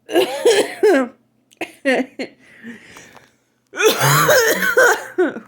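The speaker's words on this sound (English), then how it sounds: "It's actually asthma, and sometimes we cough when we have asthma." Several harsh coughs from a person with asthma, near and loud, come in a cluster, then a pause with faint breathing, then another strong burst of coughing.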